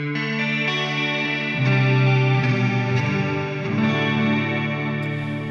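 Guitar played through a Strymon BlueSky reverb pedal in modulation mode: sustained, shimmering chords with a wide, swirling wash and long tail, rising in density partway through, no voices.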